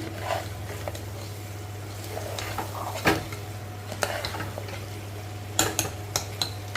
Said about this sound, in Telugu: ఆఖరి మన నాటుకోడి ఫ్రై అవుతుందండి మసాలా వేసిపోతప్పుడు